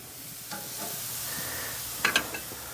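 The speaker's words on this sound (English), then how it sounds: "we'll put this last one right on the grill" Salmon fillet with maple garlic glaze sizzling on a grill over medium heat, a soft steady hiss with a few faint scrapes and a brief louder crackle of fat toward the end.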